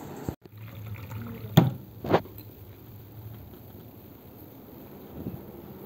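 Water poured into a glass at home, a short close splash and gurgle burst in two quick pulses, then a faint trickle fading under quiet room noise.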